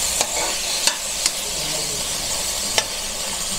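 Tomatoes are stirred into pork binagoongan cooking with shrimp paste, a steady close sizzle and hiss broken by a few sharp spoon taps against the pan.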